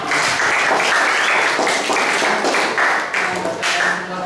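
Students in a grade 8 maths class give a round of applause, many hands clapping together in a loud, steady burst that fills the room throughout.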